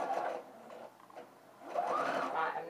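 A sewing machine stitches an armhole facing in two short bursts, a few quick stitches forward and back separated by a brief pause, fairly quiet and close.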